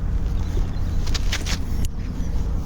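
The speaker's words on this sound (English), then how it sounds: "Uh-oh, car coming." A car approaching along a canal towpath beside a narrowboat, its broadband rush swelling loud and close over about a second, then easing off under steady wind noise.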